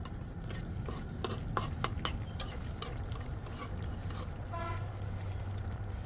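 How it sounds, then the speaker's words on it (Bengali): Kachki fish curry with green chillies being lightly stirred in a pan, a steady run of soft scraping and clinking spoon strokes over a low simmering bubble, close and moderately loud with no voices. "আমি দিয়ে দিচ্ছি কাঁচামরিচ দিয়ে আমি হালকা করে একটু নাড়া দিয়ে দিচ্ছি"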